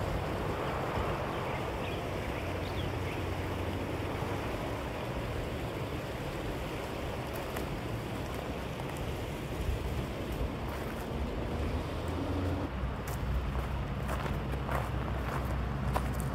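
Steady rushing water of a creek in the San Juan Mountains flows continuously at moderate level, with a few faint footsteps or crunches near the end.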